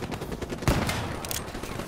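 Burst of automatic Annihilator gunfire in the video game Call of Duty Black Ops 3, a sharp loud shot followed by rapid rattling fire under a busy game soundscape.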